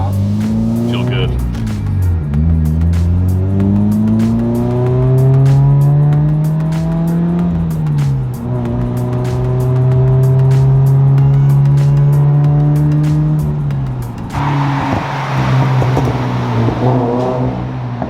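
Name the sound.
widebody Toyota 86 engine revving and accelerating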